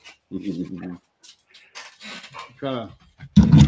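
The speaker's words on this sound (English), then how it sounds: "And my dog won't get off." A pet dog making a short, close whining vocalization and some panting during an indoor livestream, with a person talking around it.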